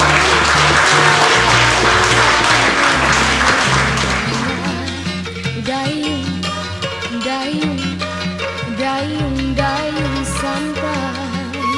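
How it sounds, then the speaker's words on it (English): At the close of a monthly heritage talk, loud audience applause swells over the first few seconds, then fades as music with a pulsing bass line takes over and carries on to the end. "Please join me again in giving Jerry another round of applause."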